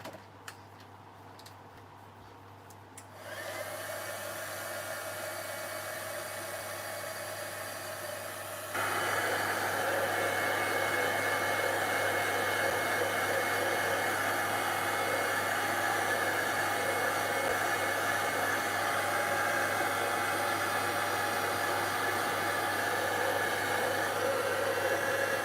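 A hair dryer dries a paper craft project. It starts with soft ticking, then kicks in with a steady, loud whooshing hiss that steps up to a higher setting and runs on without a break.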